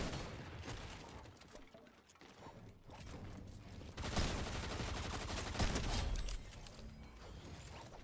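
Video game gunfire, a dense, rapid crackle of shots with mechanical rattles that builds and fades over several seconds, heard without speech.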